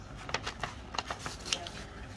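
Scissors cut through a paper stencil in a series of quick, crisp snips, irregular and close, with faint movement of paper between cuts.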